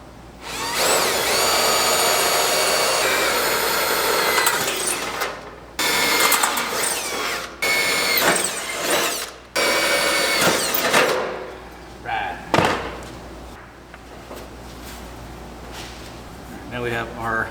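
Power drill boring pilot holes in metal on a trailer build, with loud whining bursts that start and stop repeatedly, shorter and more broken toward the end, while a person talks between runs.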